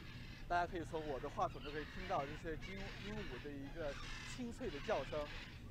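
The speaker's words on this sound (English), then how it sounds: "you could hear very clearly the sound and the songs of the birds." A busy chorus of birds calls continuously at a bird park in Iguaçu, Brazil, with harsh caws and chattering notes overlapping, close and steady throughout.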